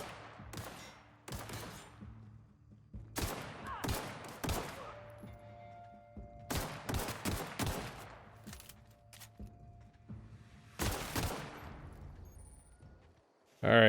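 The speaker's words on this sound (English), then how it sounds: "Pistol is actually fairly effective for what it is." Pistol gunfire in The Outer Worlds: bursts of sharp shots in irregular clusters, loud and close, separated by quieter gaps.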